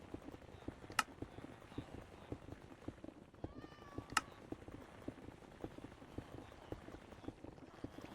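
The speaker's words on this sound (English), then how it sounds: "Heard a cat." A single short cat meow from the Minecraft video game sounds faintly near the middle, set among soft, regular ticking steps and two sharp clicks.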